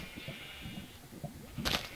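Sheep bleating on a Minecraft sheep farm, a few short game-style bleats over a soft background, with a louder burst near the end.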